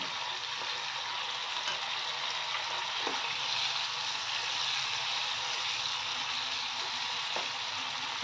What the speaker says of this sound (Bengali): আঁচটা বাড়িয়ে দিয়েছি, একটু ভাজা ভাজা হচ্ছে।